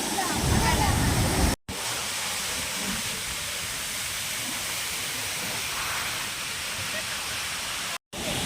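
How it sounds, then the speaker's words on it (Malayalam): Ripple Waterfall near Ponmudi Dam pours in a loud, steady broadband rush, heard close up, with two abrupt momentary dropouts breaking the otherwise unbroken roar. "പൊന്മുടി ഡാമിന് തൊട്ടടുത്തുള്ള ഒരു സ്ഥലം തന്നെയാണ് റിപ്പിൾ വാട്ടർഫോൾ."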